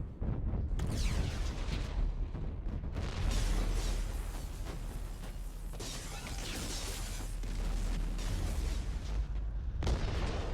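Bursts of loud gunfire and rumbling explosions in the video game Mass Effect 2 Legendary Edition crackle in dense, chaotic waves, with short lulls between heavy barrages.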